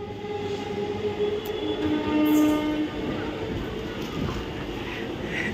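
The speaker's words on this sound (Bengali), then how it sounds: "তোমরা দেখতে পেলে অবশ্য যে কত তাড়াতাড়ি ট্রেন ছেড়ে দিচ্ছে" Howrah to Jasidih Himgiri Express pulling away from a station platform, a steady loud rumble of rolling wagons with sustained horn-like tones throughout, no talk.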